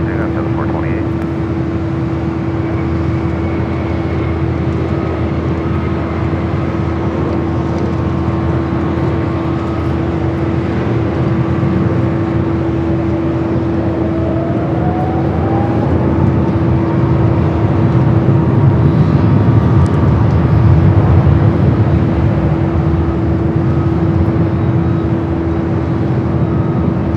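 A Delta airliner powers up for takeoff from runway 24 left at LAX, a steady distant jet roar with a constant droning tone that swells slightly midway, with radio chatter in the background.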